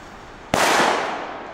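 A single loud firework bang goes off in Belgium, a sharp, powerful blast from one of the loudest firecrackers allowed there, followed by a long fading echo.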